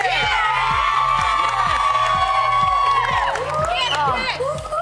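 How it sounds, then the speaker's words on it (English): A TV studio audience cheers and whoops loudly and steadily, with music playing underneath that swells and then trails off. "Give Chris a big cheer!"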